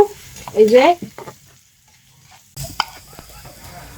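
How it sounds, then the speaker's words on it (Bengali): Onions sizzle in hot oil in a pan while being stirred, a close, bright frying hiss with scraping strokes, falling quiet midway before the crackle returns. "এখানে যে পেঁয়াজ দিয়ে দিলাম, পেঁয়াজগুলো ভালো করে ভাজতে নেব।"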